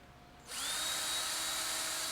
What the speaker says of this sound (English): So that's why we're going to drill holes, and then we're just going to screw it on.